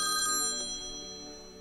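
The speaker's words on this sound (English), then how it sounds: "I thought I had my phone on Do Not Disturb. WhatsApp somehow breaks through" WhatsApp call ringtone sounding from a phone, a brief, faint electronic ring with a bright repeating pattern, fading over under two seconds with no talk.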